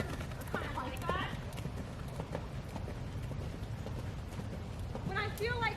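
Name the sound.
horse hooves while being ridden and turned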